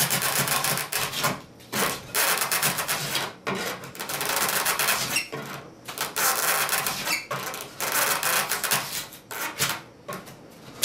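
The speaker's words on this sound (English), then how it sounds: "So I'm using that heavy draw knife that I showed you in the spindle video." A heavy Barton bevel-up draw knife roughs out a wooden chair comb, giving repeated close, rasping scrapes in strokes with short pauses between them.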